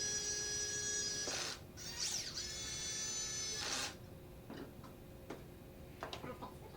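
A drill driving 1.5-inch pocket screws into the wooden frame of a kitchen island, a close high whirring that runs, breaks off and starts again, followed by a few scattered clicks and taps.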